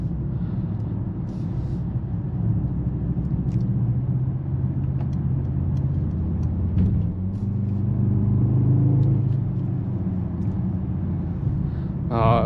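A 2025 Mercedes-AMG GLE 63 S performance SUV engine rumbles steadily with a deep low drone, swelling slightly mid-way as it revs, heard from inside the vehicle, sustained and moderately loud.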